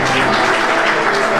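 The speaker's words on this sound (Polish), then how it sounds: "Także brawa, brawa!" A hall audience at a Polish Independence evening ceremony applauds after a professor receives an award. The clapping is loud, close and tightly packed, filling the whole brief moment.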